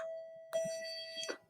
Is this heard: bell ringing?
yes